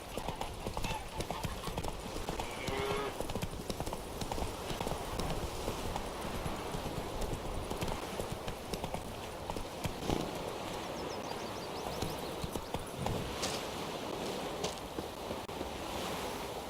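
Roach, the horse in the video game The Witcher 3, gallops on, his rhythmic clip-clop of hooves steady against a wash of wind and surf, while a voice speaks now and then.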